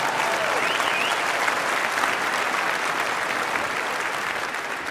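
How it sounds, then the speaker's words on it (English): A church congregation breaks into sustained, loud applause, a dense and even roar of clapping lasting throughout, with a faint voice or two briefly audible beneath it. "that applause is for Jesus, who's the Alpha and the Omega."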